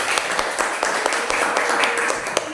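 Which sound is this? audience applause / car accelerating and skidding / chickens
audience applause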